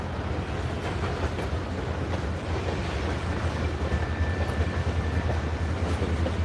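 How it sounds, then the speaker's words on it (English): A Norfolk Southern freight train rumbles by in a steady, loud, low roar with continuous rail clatter and a faint squeal, lasting throughout without talk. "we got a train race coming our way"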